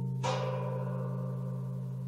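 A metal gong struck once with the flat face of a gong beater, a single clear strike followed by a long, steady, humming ring that sustains without fading much.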